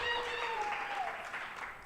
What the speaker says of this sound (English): So please give Rest a wonderful round of applause.